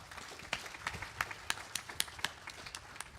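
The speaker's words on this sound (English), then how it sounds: "I think Vyashi deserves a round of applause." A small audience at a Bhagavat Katha gathering claps, sparse distinct hand claps in an uneven rhythm, fairly quiet and close.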